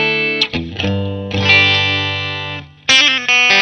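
Electric guitar played through a Marshall JCM2000 amplifier with a touch of reverb, ringing sustained chords that bloom and fade, then a fresh strummed chord near the end; loud and close, with no talking.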